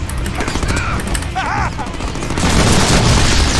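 Booming explosions and bursts of gunfire in the Deadpool video game, growing louder and denser toward the end, with a voice talking over the action.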